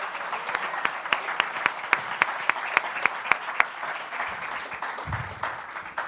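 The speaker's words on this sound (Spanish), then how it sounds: "demos un aplauso al magistrado Miguel Bonilla por su excelente moderación" Steady applause from an audience at a university legal gathering, a dense run of rhythmic claps that builds and then thins out, heard alone with a brief low thump near the end.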